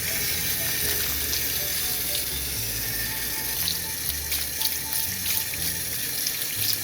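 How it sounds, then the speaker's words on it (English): Dandelion flowers rinsed under a running kitchen tap, a steady close rush of water splashing into a sink with small clinks and shifts as the blossoms are handled, continuous throughout. "we're just gonna give these a quick rinse"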